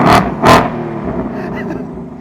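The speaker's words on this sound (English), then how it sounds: "It'll do a little baby rev." A 2024 Ford Mustang GT V8 revved remotely gives two short, loud blips close by, then settles into a low rumbling idle.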